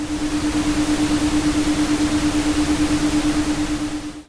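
White noise track playing from a PSP app, a loud steady hiss with a faint constant hum under it, running evenly before cutting off abruptly at the end.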